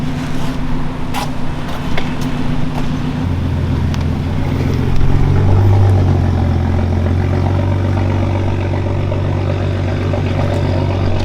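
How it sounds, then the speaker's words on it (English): A car engine runs steadily near a Miata in the rain, its low hum rising slightly in pitch midway as the car is moved, with no talking over it. "Chad, can you move my car over here?"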